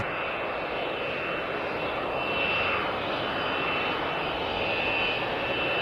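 Engines of an Airbus A320neo in a flight simulator run at a steady, even drone with a faint high whine, constant and continuous with no voices.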